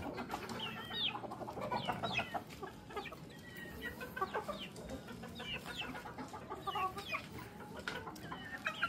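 Many chickens cluck and squawk together at feeding time, a busy, continuous farmyard chorus of overlapping calls, fairly close and steady throughout with no talking.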